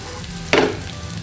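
Anchovies hit hot cooking oil with a sudden sizzling burst partway through, then settle into a softer crackle against a quiet kitchen background, no voices heard.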